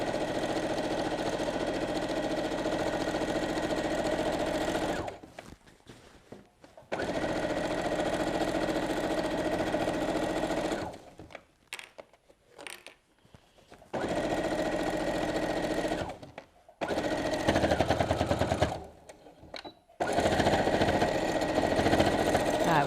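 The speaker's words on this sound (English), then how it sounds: "we've well and truly stitched those straps in" A sewing machine stitching apron straps runs in long steady bursts, a loud close mechanical whir with brief pauses between runs, and talk comes through faintly in the gaps.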